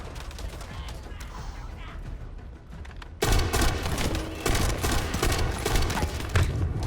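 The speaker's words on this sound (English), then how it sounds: "How can they shoot through that thing and I can't shoot through there?" Rapid gunfire in the video game The First Descendant erupts suddenly and continues as dense, loud, overlapping shots after a quieter stretch of game noise.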